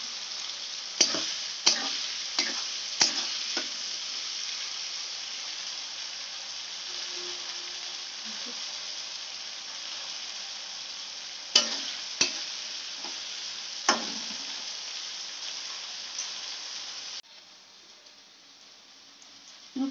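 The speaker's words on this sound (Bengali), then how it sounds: "ফুলকপি মোটামুটি ভাজা হয়ে এসছে, আর একটু ভাজা হবে" Cauliflower, carrots and peas frying in a pan for chire pulao, a steady bright sizzle throughout, punctuated by sharp clicks and scrapes of stirring, easing to a softer hiss near the end.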